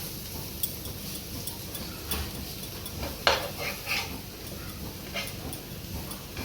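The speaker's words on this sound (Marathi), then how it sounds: "सगळं तळून घ्यायचं चांगला" Slices of elephant foot yam (suran) fry in oil, giving a low, steady sizzle with occasional light clicks and taps from a utensil against the pan.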